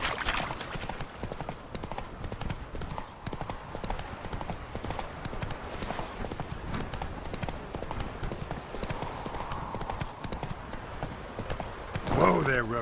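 Roach, Geralt's horse in the video game The Witcher 3, gallops with a steady, close clatter of hoofbeats throughout, over a low ambient bed, with a short vocal burst near the end.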